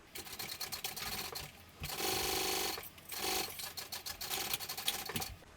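A sewing machine bastes a thick vinyl flap with an eighth-inch seam allowance, running in bursts of rapid mechanical stitching separated by short pauses, close and clear.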